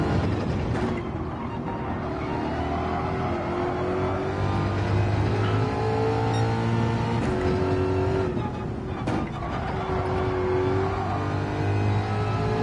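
Race car engine in a racing game, revving hard and steadily through gears with rising and falling pitch, loud and continuous with brief shift dips.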